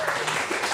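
Brief burst of audience applause at a live event, dense and steady clapping under a faint voice.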